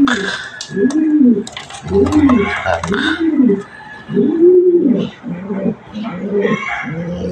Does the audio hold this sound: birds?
yes